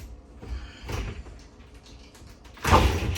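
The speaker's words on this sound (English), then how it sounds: "Over here you do have your tri-sliding shower door, so this will lift, this slides this way" A tri-panel sliding glass shower door in a Flagstaff fifth wheel trailer rattles and rolls along its track in soft bursts, ending with a louder knock as a panel reaches its stop.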